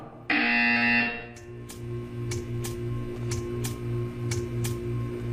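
A loud electronic buzzer in the video game Portal 2 blares for about a second, followed by a steady humming tone with faint rhythmic clicking.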